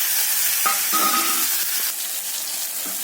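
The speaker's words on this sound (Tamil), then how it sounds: "சின்ன வெங்காயம் கொஞ்சம் வதங்கிருச்சு" Shallots and small tomatoes sauté in a pan, giving a steady close sizzle with soft stirring scrapes throughout. No one speaks.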